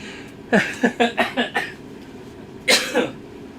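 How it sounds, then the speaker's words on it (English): A person coughs while trying to drink, a burst of five rapid hacking coughs close to the mic, then a pause and two more harsher coughs. "Nothing like having to cough while you're"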